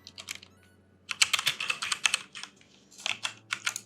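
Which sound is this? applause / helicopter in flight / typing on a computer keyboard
typing on a computer keyboard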